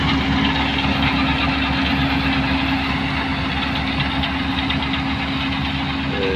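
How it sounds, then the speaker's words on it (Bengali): A grass cutting machine runs steadily in Saudi Arabia, its engine a loud, continuous droning hum with a constant rough, buzzing texture and no pauses. "সৌদি আরবে কি সুন্দর ঘাস কাটার মেশিন, ঘাস কাটতেছে এই যে মেশিন দিয়ে"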